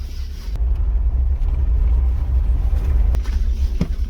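Car driving on a busy road, a steady loud low rumble of engine and tyre noise from inside the cab with a few brief knocks, no talking.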